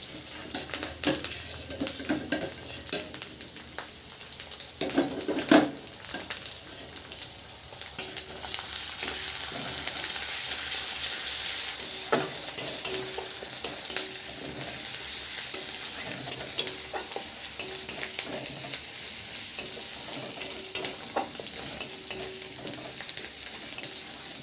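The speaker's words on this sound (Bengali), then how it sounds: "এবার আমি রসুন বাটাটা দেব।" Garlic paste sizzling in a pan with fried onion paste, stirred with a utensil that scrapes and clinks against the metal; steady close frying hiss with irregular stirring knocks, no voices.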